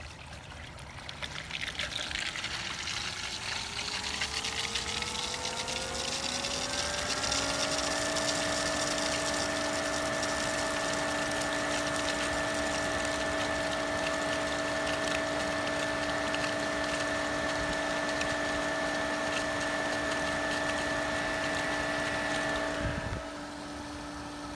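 A pool filter pump running on its rinse setting winds up over several seconds into a steady whirring hum with rushing water, holds constant and fairly loud, then cuts off abruptly near the end.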